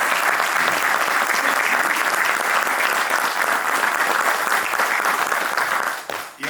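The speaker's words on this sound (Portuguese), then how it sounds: "Uma salva de palmas a todos." An audience at a Portuguese export event opening session applauds loudly and continuously in dense, even clapping that fades out abruptly near the end.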